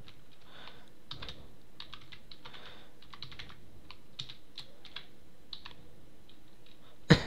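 Fast, close typing on a computer keyboard, with steady clusters of crisp key clicks and a sharp louder tap at the very end, no one speaking.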